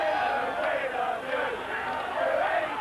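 A rugby league crowd roars and chants in support of the Queensland side against Great Britain, a dense, continuous stadium din with rising and falling shouts, loud and unbroken throughout.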